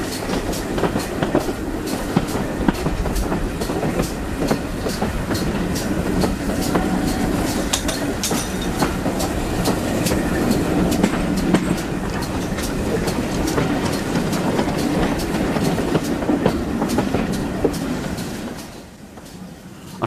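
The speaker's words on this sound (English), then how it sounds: "Our train soon rolls into Staverton Station." South Devon Railway heritage train running steadily along the line towards Staverton, wheels beating a continuous clickety-clack over rail joints, close and loud throughout before easing off at the end.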